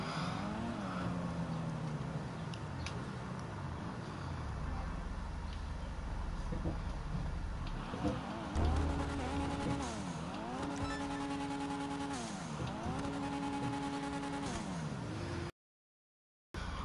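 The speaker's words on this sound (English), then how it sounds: "I love the sound of the turbo when it goes." Turbocharged car engine in a GTA video game, a steady engine drone with repeated rising and falling rev sweeps in the second half, ending in a brief dropout.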